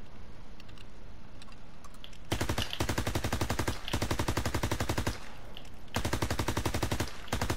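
Gold MP40 submachine gun in Call of Duty WWII rattling off rapid automatic bursts, loud and close, in three long strings separated by short pauses after a quiet opening.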